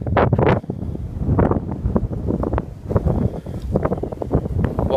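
Wind gusting in Central Park, loud buffeting rumbles battering the microphone in uneven surges throughout, close and harsh with no clear voices over it.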